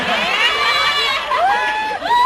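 An audience at a biology department reunion and anniversary celebration cheers and shouts excitedly, a loud crowd of raised voices and whoops with little distinct clapping.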